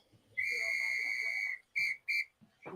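A referee's whistle sounds during an NHL playoff ice hockey game between the Rangers and Penguins, one long shrill blast followed by two short sharp ones, fairly close, with faint crowd noise around and a voice at the end.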